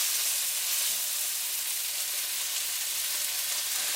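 Chicken adobo sizzles and fries in a pan over high heat, a steady bright hiss that stays even and close for the whole stretch, with no voices.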